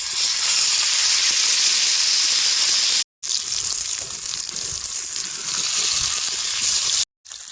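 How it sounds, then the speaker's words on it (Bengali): Loud, steady hissing sizzle of small puti fish frying in hot oil on a griddle, close up and continuous, with two brief silent cuts. "এবারে তাওয়ার গরম তেলের মধ্যে মাছ দিয়ে দেবো"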